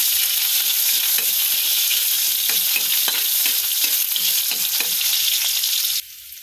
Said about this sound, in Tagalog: magigisa na ako ng sibuyas